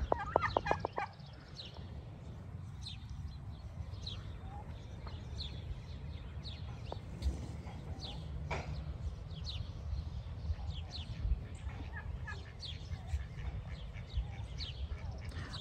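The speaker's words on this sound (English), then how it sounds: "Our baby turkeys are out for a walk." Soft, high chirps and peeps of baby turkeys repeat throughout over a steady low rumble of outdoor noise, the young birds calling nearby.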